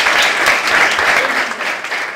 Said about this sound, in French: je crois qu'on peut applaudir